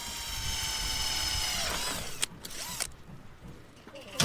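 Power drill whirring steadily while mounting a solar panel on a house roof, a continuous mechanical whine for about two seconds, then stopping into scattered clicks and handling knocks outdoors.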